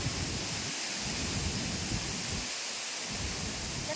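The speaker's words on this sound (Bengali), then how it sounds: "এখনো দেখতে পাচ্ছেন কিরকম বাতাস।" A strong storm of wind and rain roars continuously, a dense, loud rush of gusting air and downpour with low rumbling surges and no pauses.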